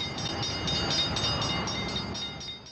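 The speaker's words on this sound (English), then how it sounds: "It's a self-propelled rail car built in Italy by Fiat" A Fiat-built self-propelled rail car pulls into Blue Island station on the main line: a steady rumble of the passing car with faint rhythmic clicks, and no one speaking.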